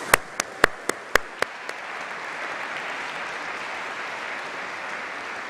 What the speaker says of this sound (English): Huge round of applause to them.